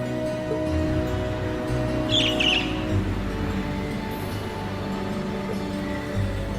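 A single bird chirps briefly in the video game Trails of Cold Steel, a short high twitter midway through over a steady low game ambience hum.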